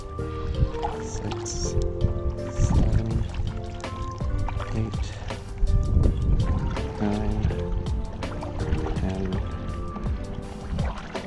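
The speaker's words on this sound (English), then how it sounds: "Now we are going to do some side paddles, see how many side paddles to do a 360." A paddle dips and pulls through water in repeated side strokes beside a Blackfin Ultra CX paddle board, soft swishes and splashes recurring steadily beneath loud background music.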